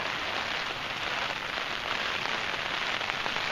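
Hard rain pours down at twilight on an Alaska backpacking trip, a dense, unbroken hiss of drops with an even, steady loudness and no breaks throughout.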